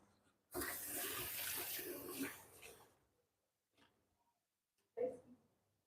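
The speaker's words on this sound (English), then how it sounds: "I need to wash my hands" Water gushes loudly from a tap for a couple of seconds during handwashing in a kitchen, then stops, followed by a few faint splashes and a short burst of water.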